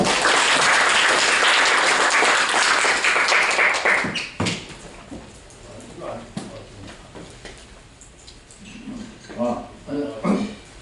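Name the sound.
audience applause welcoming a speaker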